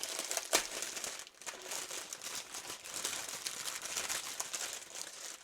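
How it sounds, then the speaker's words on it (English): Plastic packaging from a diamond painting kit crinkles and rustles continuously at close range, with busy, uneven bursts of crackling throughout. "So just a second, lots of crinkling."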